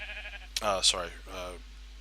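Sheep bleat twice in quick succession, close and loud, with a wavering tremolo, indoors while a person is speaking nearby.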